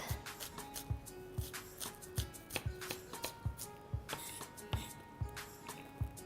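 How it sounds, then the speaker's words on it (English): Shallots are finely chopped with a knife on a board, the blade striking in a quick, fairly regular series of crisp taps, close and quiet with no talking. "So I'm going to start by finely chop these shallots."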